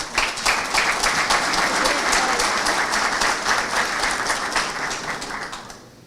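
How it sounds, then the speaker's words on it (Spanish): Dense, steady applause from a conference audience at a national accreditation congress in Chile, loud and sustained throughout before thinning and fading at the end. "La recibimos con fuertes aplausos."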